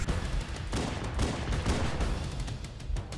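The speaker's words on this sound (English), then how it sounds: "Why is the Banshee shooting?" In Halo: Combat Evolved, a Banshee fires in rapid bursts, producing dense, continuous rattling gunfire with sharp repeated reports at a moderate level and no voices over it.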